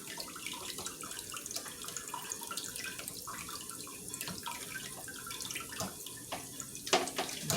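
Pork neckbones rubbed by hand in a bowl of lukewarm water, giving steady close sloshing and splashing with irregular watery swishes throughout and a brief louder splash near the end.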